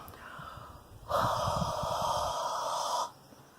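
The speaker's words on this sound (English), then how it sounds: "So I'm going to give this a huff." One long, forceful huff of breath is blown onto a photopolymer stamp, a close, breathy hiss that starts abruptly, lasts about two seconds and stops sharply.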